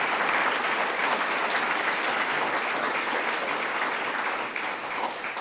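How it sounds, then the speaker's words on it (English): A large audience gives a sustained round of applause at an awards ceremony honoring an award recipient, dense and even throughout, easing slightly near the end. "So another big round of applause for Chad Moyer."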